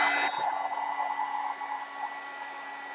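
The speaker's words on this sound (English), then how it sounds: "Heat gun." A heat gun blows hot air over a gelli print, giving a steady, close whooshing hum like a hair dryer. It starts with a brief louder burst and then settles into an even drone with no speech.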